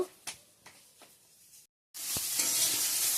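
Eggplant slices frying in a pan, a few light sizzling bursts and scrapes, then a brief silence before a louder, steady hiss of frying takes over.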